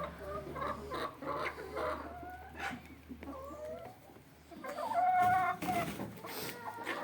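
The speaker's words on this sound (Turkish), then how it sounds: "Bunlar ataks cinsi tavuklarımız." Atak breed chickens cluck and squawk close by in a busy yard on a rainy day, with short rising calls overlapping and some background bustle throughout.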